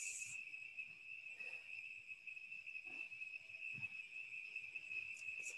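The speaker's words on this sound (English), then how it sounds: "crickets." Crickets chirp in a steady, continuous high trill that is faint and unbroken throughout, with no voices.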